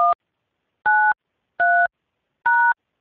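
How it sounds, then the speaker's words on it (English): Telephone keypad tones entering a PIN: four short, evenly spaced dual-tone beeps, clear and close, with silence between each press. "Once I get connected, you'll hear me enter that PIN."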